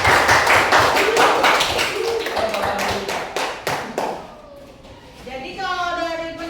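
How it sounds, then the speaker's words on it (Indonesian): Clapping in a classroom, a group of students applauding together in a burst of dense claps that fades after about four seconds, followed by voices talking. "Ya, mari kita berikan tepuk tangan."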